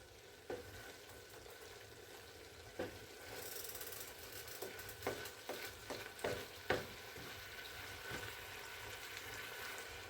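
Southern cabbage thickening as it cooks in a pan, stirred with soft scraping strokes and scattered clicks over a quiet simmering bed.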